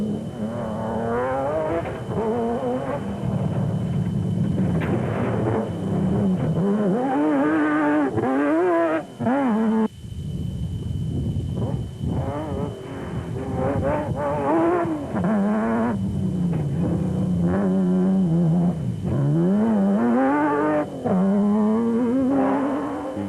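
A Nissan rally car engine revs hard and close during the 2005 Toyota Dealer 1000 rally, pitch climbing and dropping through gear changes with a brief dip, loud and continuous throughout.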